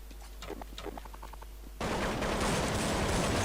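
Counter-Strike 1.6 gunfire erupts abruptly on a jailbreak server after a few quieter game sounds, then continues as loud, sustained, rapid automatic fire to the end.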